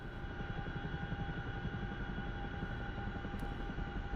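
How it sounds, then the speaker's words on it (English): A Westland helicopter in the DCS World flight simulator drones with a steady, dense low rotor rumble and engine hum, continuous and fairly loud with no talk over it. "Westland helicopter, nothing special."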